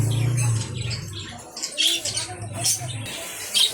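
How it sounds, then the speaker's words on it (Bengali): Doves coo softly in a bird shop, mixed with scattered chirps from other caged birds and a murmur of voices nearby. "এখানে ঘুঘু পাখি"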